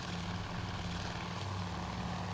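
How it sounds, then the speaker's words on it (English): Engines of a flight of five TBD torpedo bombers in Task Force Admiral, a steady, loud propeller drone with a low hum that holds unbroken throughout. "We have 5 torpedo bombers in this attack"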